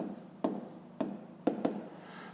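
Pen strokes on paper during a fifth-grade math exercise, four distinct taps and scratches spaced unevenly, quiet and close, with no talking.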